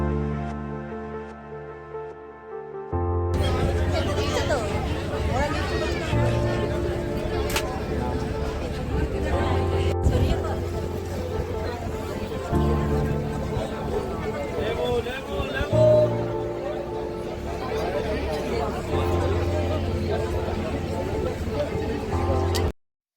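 A crowded ferry carrying people and motorbikes across the Muriganga river, with a steady low engine drone and wind rumble throughout after a quieter start, while people talk and chatter nearby.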